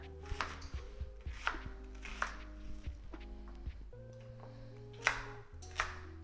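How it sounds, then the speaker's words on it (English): An onion and carrot are chunked with a knife for chicken stock. Scattered, irregular chopping thuds sound over steady tonal music in the background. "Just gonna chunk the onion,"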